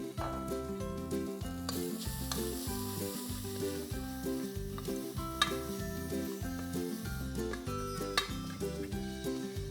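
Chopped ginger, garlic, coriander stems and green chillies sizzle in a pan for masoor dal shorba. A steady, close sizzle with light stirring clinks plays under continuous background music, and no one speaks.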